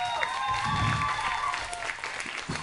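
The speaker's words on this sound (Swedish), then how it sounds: "En applåd till honom." Audience applause for a 15-year-old guitarist at the Partillerocken 2013 final at Ungdomens Hus, a steady crowd clapping over ringing guitar and band tones, moderately loud throughout.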